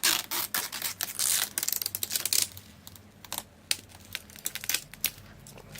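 Plastic covering pulled and crinkled off a Roccat Isku illuminated keyboard, with dense bursts of crackly rustling and scattered clicks for the first half, then sparser crinkles and taps close by.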